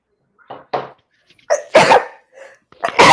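Several sharp, loud bursts close to the microphone, a person sneezing with short gaps of silence between the bursts.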